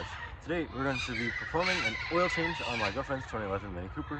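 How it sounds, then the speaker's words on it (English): Noisy birds outdoors, chickens and a rooster crowing and clucking loudly throughout, heard over someone talking close by. "Sorry about the noisy birds."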